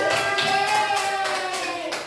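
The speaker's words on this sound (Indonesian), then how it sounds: "Tepuk tangan buat kita." Students in a classroom clapping their hands together: a short burst of loose, rhythmic claps blended with sustained voices calling out, close and fairly loud.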